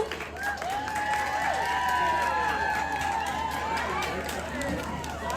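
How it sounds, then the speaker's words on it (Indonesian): An audience applauds contestant number 1 at a church Easter camp solo singing contest in Sangalla, with dense steady clapping mixed with crowd noise and voices for the whole stretch. "Sekali lagi kita berikan tepuk tangan untuk peserta nomor undian 1."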